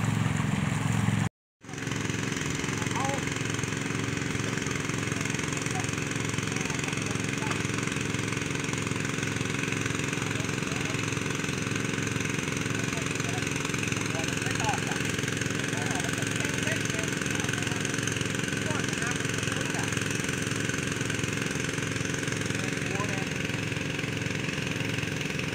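An engine-driven water pump drains a pond and runs steadily at a mid-pitched idle throughout, loud and close. It cuts out for a moment near the start, then keeps droning evenly.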